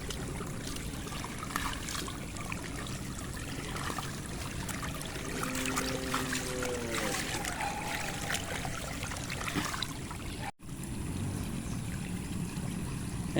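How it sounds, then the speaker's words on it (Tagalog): Floodwater current rushing strongly past a house, nearly reaching the terrace, a steady broadband wash of flowing water that stays constant and close throughout, with a brief dropout near the end. "Ayan, lumakas-lakas na yung daloy nung Agos."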